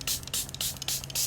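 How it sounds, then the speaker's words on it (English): Setting spray is misted onto a face in several quick, close hissing bursts, about five short puffs in rapid succession. "I'm going to spray it down."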